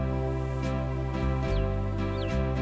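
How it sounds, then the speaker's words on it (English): An electronic organ's Hawaiian rhythm preset plays a steady sustained chord with a rhythmic accompaniment pattern. Faint bird chirps come through over it, and the sound is even and continuous throughout. "that gives me a nice Hawaiian rhythm"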